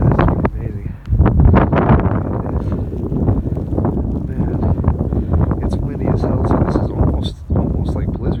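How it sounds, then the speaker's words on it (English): Strong gusting wind in near-blizzard snow conditions at Big Bear Lake, California, roars and buffets the microphone throughout, loud and close, with a voice faintly mixed in. "It's really, really, really windy though."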